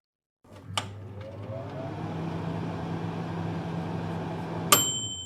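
A microwave oven running with a steady low hum and faint whir for several seconds, with a soft click near the start and a sharp beep-like ding near the end, no voices.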